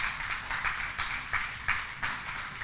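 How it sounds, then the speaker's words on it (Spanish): A church congregation claps together in a steady, rhythmic beat, with loud, close hand claps repeating through a lively worship service. "Dale un aplauso al Señor."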